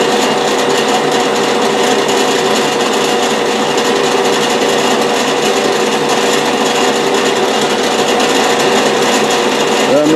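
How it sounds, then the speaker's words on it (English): Loud, continuous grinding drill noise bites steadily into metal with no lubricant, a harsh sustained whine without pause, very close. "What we're going to do is we're just going to drill it."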